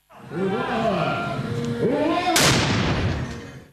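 Someone speaks, then a loud blast from a replica cannon firing no ball booms out close by, its roar decaying over the following second.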